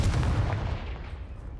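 An explosive Confringo spell cast in the video game Hogwarts Legacy gives a loud booming burst that rumbles and then decays quickly.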